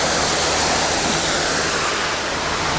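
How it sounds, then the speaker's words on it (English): A waterfall pours steadily close by, a dense, loud, even rush of falling water that fills the whole stretch with no break or change. "we got the waterfall in there"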